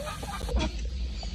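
Backyard ISA Brown and Australorp hens cluck softly and intermittently in a short stretch of farmyard sound, with a steady low background rumble.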